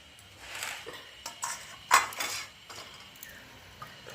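A metal wok is set onto a stove, giving a few clanking knocks and one bright metallic ring midway, with light rattling around it and no talk.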